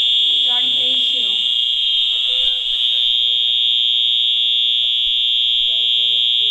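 Fire alarm on a Faraday MPC-2000 system sounds continuously through a system test, a steady loud electronic tone under people talking and calling out instructions.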